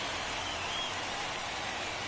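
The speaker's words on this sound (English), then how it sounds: "This rain is not letting up." Steady rain pours over a baseball stadium in MLB The Show 24, a dense, even hiss filling the whole stretch with no voices on top.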